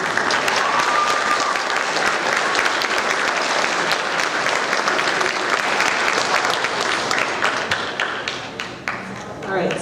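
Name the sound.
audience applauding students at awards ceremony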